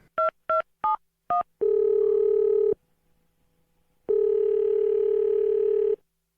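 A telephone line during dialing: four short keypad tones in quick succession, then a steady dial tone that stops and returns after a pause, heard loud and close with no talking.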